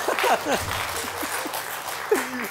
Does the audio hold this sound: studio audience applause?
yes